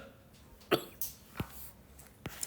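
A man coughs repeatedly in short, sharp bursts, about four separate coughs spaced across a couple of seconds against a quiet room background.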